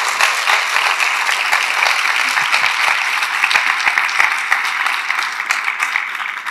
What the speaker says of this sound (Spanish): Ahora sí quiero un aplauso para el Señor